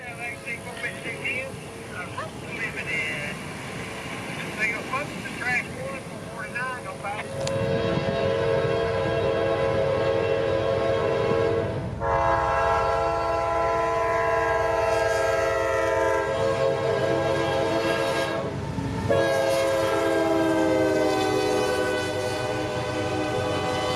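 A long CSX daily freight train approaches and rolls past at Folkston, Georgia, with a loud sustained horn sounding several times over the rumble of the passing cars, while a voice talks across the start.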